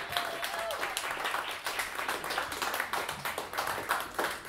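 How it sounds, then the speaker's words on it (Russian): A concert crowd claps for a performer, a busy, continuous patter of many hands with a few sharper individual claps standing out, steady throughout. "И снова под ваши аплодисменты Ронни Баран!"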